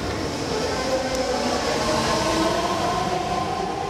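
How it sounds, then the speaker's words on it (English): BART rapid transit train passing, a steady loud rushing rumble of rail cars with a faint brief squeal, no talking. "Bart trains carrying thousands of comfortably seated passengers will glide quietly through the Bay Tube"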